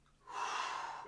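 A single deep inhale during an arm swing exercise, a close breathy rush of air that swells quickly and holds for about a second, quiet and alone.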